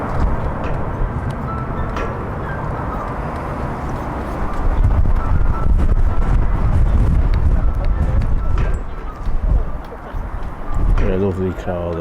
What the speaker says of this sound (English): The wind's blowing straight through me,